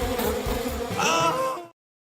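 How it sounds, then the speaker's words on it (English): A swarm of bees buzzes loudly and continuously in a sound effect, a dense droning hum that stops abruptly into silence. "A large influx of bees ought to put a stop to that."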